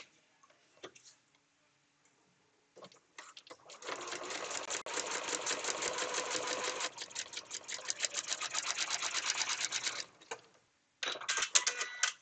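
Sewing machine stitching fabric in foundation paper piecing, with a long fast ticking run of stitches for about six seconds, a brief stop, then another short burst, close and clear.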